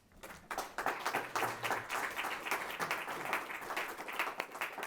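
A pitch-event audience greets the first startup presenter with applause, a dense, even patter of many hands at moderate distance, fairly quiet and sustained for about five seconds.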